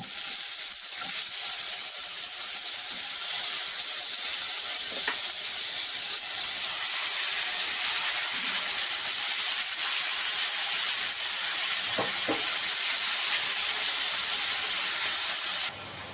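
Chopped tomatoes tipped into a hot pan of oil and green chillies hiss in a loud, continuous, steamy sizzle with faint stirring clicks, lasting almost to the end before dropping off.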